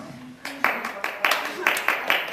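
An audience claps after a Christmas play as performers bow, with a few sharp, separate bursts of hand claps in an uneven rhythm, while people talk faintly beneath.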